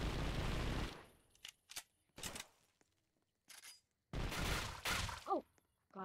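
Gunfire in the Roblox-style game Anomic during an attack on the mayor, with bursts of loud rapid shots separated by short pauses and single cracks, plus a brief whooshing effect, close and without talking.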